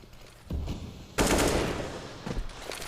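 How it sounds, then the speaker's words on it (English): Counter-Strike gunfire from an MP9 and Desert Eagle pistols in a Mirage match, with a loud burst of rapid shots, a pause and then more firing. "It's an MP9 for Electronic, Deagles for the rest."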